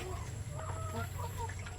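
Laying hens clucking on a poultry farm, several close, overlapping short clucks and murmurs over a steady low hum of background noise.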